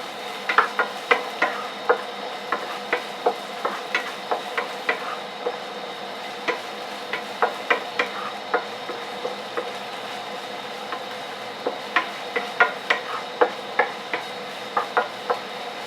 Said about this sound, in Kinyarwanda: Vanga ibitunguru kugeza igihe bihiriye, ugenda uvanga gutya.